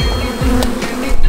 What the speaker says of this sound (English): That's one giant stick with a bunch of bees on it